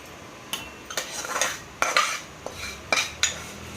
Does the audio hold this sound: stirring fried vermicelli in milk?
yes